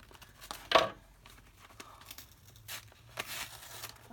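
Tearaway embroidery stabilizer being ripped and crinkled away from stitched vinyl on a zipper fob pouch with a window, several short sharp tearing bursts close up between quieter handling rustles, no talking.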